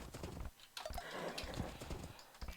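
Scout cavalry hooves in the strategy video game Age of Empires, a faint quick clip-clop trotting patter mixed with light clicking sounds, quiet and without speech.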